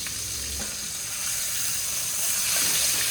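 A steak fries in a hot pan, giving a steady, close sizzle and crackle with bubbling hiss that swells slightly toward the end.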